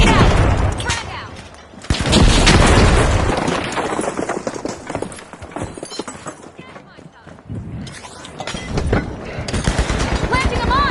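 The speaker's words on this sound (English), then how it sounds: "Special delivery! Frag grenade out! Frag out!" A video game frag grenade explodes with a loud boom, and bursts of rapid gunfire and further blasts rattle on around it; a voice shouts over the fighting.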